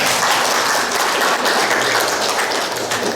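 A crowd at a church Mass gives Kak Vicky dense, continuous applause, loud and sustained for a few seconds before easing off slightly at the end; no voices stand out.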